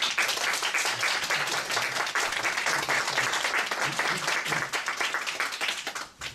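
An audience at a lecture on Beijing opera applauds warmly, a dense, sustained burst of many hands clapping that fills the room and tapers off at the end.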